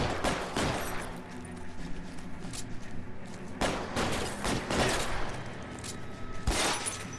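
Gunfire rings out in a shootout in the video game L.A. Noire, with repeated sharp shots arriving in irregular bursts, some clustered rapidly, over game background noise.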